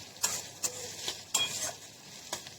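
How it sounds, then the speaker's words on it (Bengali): Finely chopped onion frying in spices for begun masala, stirred with quick repeated scraping strokes against the pan over a bright, steady sizzle, close up. "পেঁয়াজটাকে আমি অ্যাড করে দিয়েছি পেঁয়াজটা দেখুন আমি একদম ছোটো ছোটো করে কুচিয়ে নিয়েছি"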